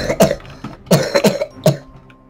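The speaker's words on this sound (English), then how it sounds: "So, I may be coughing." A person coughs repeatedly, several sharp close bursts in an uneven rhythm with a throat-clearing quality, loud and alone without speech.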